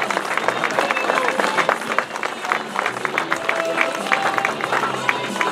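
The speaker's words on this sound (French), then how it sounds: "On applaudit bien fort Clément Venturini, Francis Mouret et David Menu" Crowd applauding and cheering for the podium riders at a cyclo-cross race in Sisteron, steady dense clapping throughout with an announcer's voice over the top.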